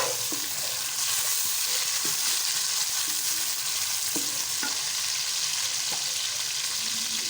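Chopped tomatoes and green garlic frying in a pan while being stirred, a loud continuous sizzle with occasional scraping spoon taps throughout, no talking.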